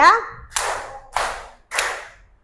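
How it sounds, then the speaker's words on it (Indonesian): Classroom of primary school pupils clapping their hands together in counted beats, three sharp, evenly spaced group claps about half a second apart, close and loud after a brief voice at the start. "Oke, tepuk tangan untuk kita semua."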